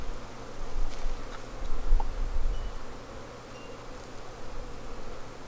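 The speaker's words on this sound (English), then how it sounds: "A ton, I mean a ton of these bees in here." Young, fuzzy honeybees crowd inside a weak hive being boosted with extra bees, giving a steady, close, low buzzing drone that rises and falls gently, with no voices.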